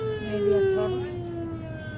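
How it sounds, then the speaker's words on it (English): A steady wailing siren sounds at a distance during a snow blizzard on a Rocky Mountain road, its slowly falling tone continuous over engine rumble inside a moving vehicle. "There's a siren going off."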